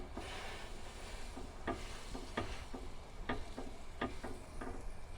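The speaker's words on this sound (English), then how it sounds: "Let's melt that butter." Butter melts and sizzles in a pan on a van stove, a soft steady crackle broken by several sharp spattering pops and occasional scraping, quiet and close, with no talking.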